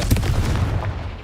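Confringo fire-curse blasts in Hogwarts Legacy, a booming explosive burst up front followed by a rumbling low roll that fades off, with no talking.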